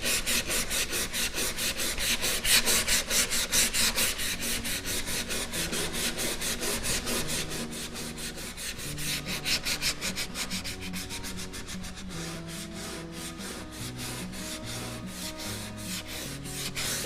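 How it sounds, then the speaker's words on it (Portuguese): Sandpaper is rubbed by hand along the grain of a patina-painted pine wood box in steady back-and-forth strokes, a close, rhythmic scratchy rasping that continues throughout without talk. "Onde você vê que ela tem veio, no sentido do veio, é onde você vai lixar."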